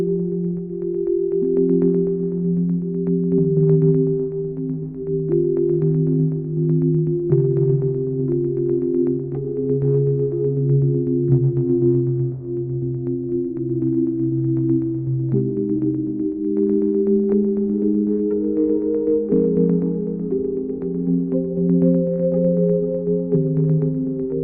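Sustained retro synth pad built from sine waves, cinematic in character, playing smooth held chords that shift slowly from one to the next, steady and fairly loud, with no voices.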